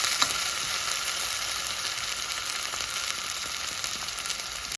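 Ginger garlic paste frying in hot oil in a pan, giving a steady, dense hiss and crackle of sizzling that holds evenly throughout, close and fairly loud, with no talking.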